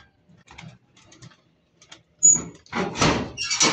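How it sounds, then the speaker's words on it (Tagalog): Racing pigeons released from a loft in Bongabong, Mindoro: faint rustling and shuffling, then a sudden loud burst of wing flapping that carries on in the final second or so. "So magpalipad na tayo mga kaibon."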